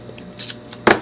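Plain masking tape torn off the roll during a plaster leaf-imprint craft: a faint rip near the start, then a brief sharp tearing burst close to the microphone near the end, with no voices.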